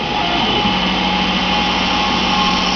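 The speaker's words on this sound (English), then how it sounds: "here we have a demonstration on my tool changer for my Denford 4-act lathe" A Denford CNC lathe's tool changer runs with a loud, steady high-pitched motor whine and broadband mechanical hiss, continuous and close for nearly three seconds with no voices.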